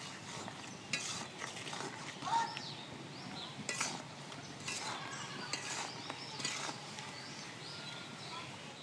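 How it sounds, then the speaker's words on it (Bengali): Raw mango pieces cooked with sugar in a pan while making dry mango morobba, stirred often, giving faint scraping and soft sizzling with occasional sharper utensil clinks against the pan, quiet and close. "এই আমগুলোকে ঘন ঘন করে নাড়তে হবে, নাড়তে নাড়তে চিনি শিরাগুলো শুকিয়ে যাবে।"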